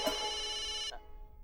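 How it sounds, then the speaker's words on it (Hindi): A telephone rings with a bright electronic tone, one close sustained burst lasting about a second before it cuts off into near silence. "अरे मेहता साहब का फोन"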